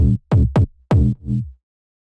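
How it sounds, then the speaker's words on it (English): A synth bass layer built in Serum from two sine waves with light FM, playing four short, deep, punchy notes in a staccato rhythm before cutting to silence, dry and loud with no voice. "So as you can hear, it's just two sine waves with a little bit of FM,"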